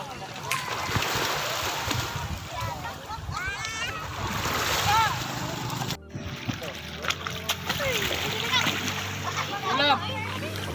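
Sea water splashes and sloshes continuously around the listener at Boracay, with children chattering and shouting throughout and a brief dropout midway.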